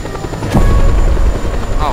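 A plane engine roars in a flight video game, a loud rumbling drone that swells in the middle of the clip, with a voice speaking over it.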